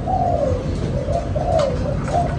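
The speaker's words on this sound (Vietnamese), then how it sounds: "Con kia nó cứ muốn gù miết anh em ạ." A young Malaysian spotted dove cooing in a cage, a loud, close, low repeated coo with soft rising and falling phrases over steady background noise.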